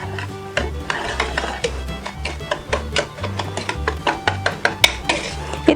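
Dark brown sugar and all-purpose flour are stirred together in a bowl. A utensil scrapes and knocks against the container in a quick, steady rhythm, close and fairly loud, with no talk.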